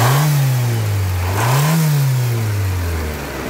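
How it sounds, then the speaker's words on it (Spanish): A 1992 Dodge Spirit car engine running with low fuel pressure, idling roughly, then revving up twice in slow surges before settling back down, close and loud. "De hecho, este carro con esta presión sí alcanza a prender."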